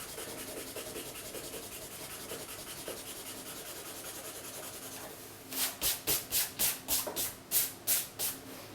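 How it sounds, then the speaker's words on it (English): An eraser rubbed back and forth on a drawing, first faintly, then a series of about nine distinct scrubbing strokes in a quick rhythm, close and clear. "you would come back and you would actually use your eraser and erase"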